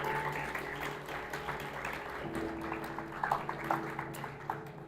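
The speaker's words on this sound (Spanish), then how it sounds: "Denle un aplauso al Señor" Steady clapping from a church congregation during a Sunday service, dense and sustained, with a few louder bursts toward the end and faint voices mixed in.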